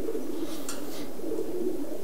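A racing pigeon from a one-loft race coos softly while held in the hand. Its low, throaty coo repeats in gentle pulses at close range, with a faint rustle in the middle.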